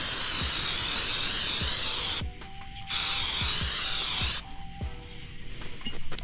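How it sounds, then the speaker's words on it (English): Aerosol brake cleaner sprayed onto the rear brakes of a 2011-2014 Ford Mustang GT, two long loud hissing bursts separated by short pauses, with clicks and clanks of handling between them and no talking. "if you're just using actual brake cleaner. You can spray it all over the place."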